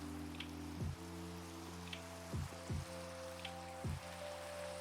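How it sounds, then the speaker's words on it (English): Rain falling in a video game: a steady soft hiss of rainfall with low sustained tones underneath, broken by a few brief deeper thumps, quiet and without talk. "The shaders really sell the miserableness of rain in this game."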